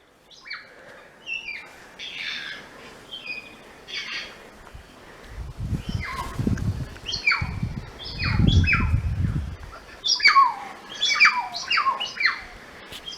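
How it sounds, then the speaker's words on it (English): Harsh, squawking kaka parrot calls play from a speaker in Zealandia's wildlife sanctuary, a long series of loud, rising and falling cries and whistles over low rumbling background noise. "And now you hear a recording of a kaka."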